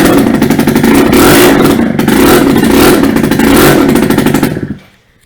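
An engine revs hard and loud through a muffler exhaust, holding a raspy, clattering roar for several seconds with slight rises and dips before cutting off abruptly into silence.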